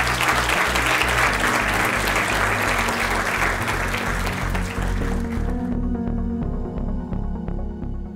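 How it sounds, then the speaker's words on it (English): An audience at the 2018 VIP awards ceremony applauds Dr. Melanie Scott, loud dense clapping filling the room for several seconds before fading into quieter room tone. "Please give a round of applause to Dr."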